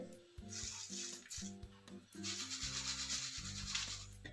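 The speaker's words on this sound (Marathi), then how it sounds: "पिशवीत घालून पिशवी असे हाताने चोळून घेतली तर शेंगदाण्याची साल काढणे सोपे जाते" Roasted peanuts are rubbed by hand inside a plastic bag to loosen their skins, producing close, dry rustling and scratchy friction in repeated strokes, louder in the second half, over faint background music.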